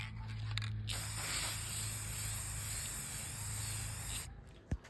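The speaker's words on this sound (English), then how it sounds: "an ornament that I want to spray paint too" A steady hissing spray of paint onto a Christmas ornament runs continuously for about four seconds, close and fairly loud, then cuts off with a faint tap at the end.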